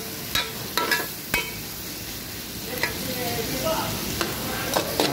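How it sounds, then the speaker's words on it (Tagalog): Tomatoes sautéing in a pan for ginisang upo, a steady sizzle under repeated sharp clinks and scrapes of a spoon stirring against the pan, close and moderately loud. "Lutuin natin maigi yung kamatis para lumabas yung lasa niya"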